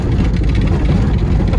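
A Honda CR-V engine roaring loud and steady on ice during a second gear start, a dense low rumble with no break and no voices.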